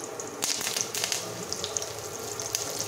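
Chili and curry leaves sizzling in hot oil in a kadhai, a steady hissing crackle with scattered sharp pops throughout, close and moderately loud.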